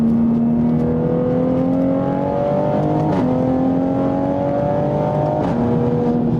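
A 2020 Toyota Supra, a tracked version, drives with traction control off: a steady close engine drone slowly climbing in pitch, with brief dips at shifts around the three- and five-second marks, and no talking.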